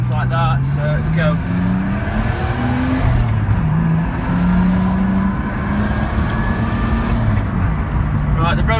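An R33 Nissan Skyline with 320 horsepower drives off on a wet road. Its engine note rises and falls as it revs through the gears, loud and close inside the car, with someone talking over it.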